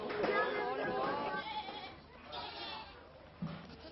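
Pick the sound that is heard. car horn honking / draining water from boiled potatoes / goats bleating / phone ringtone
goats bleating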